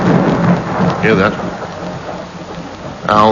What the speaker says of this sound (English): Owl hoot and a thunderstorm.